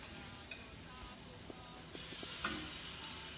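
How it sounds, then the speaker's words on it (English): Cajun-spiced food sizzles in cannabis oil in a pan, a faint hissing fry that grows louder and brighter partway through, with a few soft taps of stirring. "So when you hear that sizzle, that's when you know it's ready to go."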